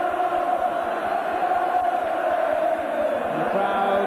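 A large football stadium crowd at Newcastle v Brighton in 1984 chants steadily, a sustained roar of massed voices with a rhythmic pulse, distant and unbroken.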